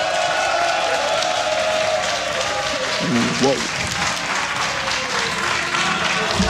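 A large arena crowd applauds at a StarCraft 2 WCS Europe esports grand final, a dense, sustained roar of clapping and cheering that lasts throughout, while a caster's voice carries over it.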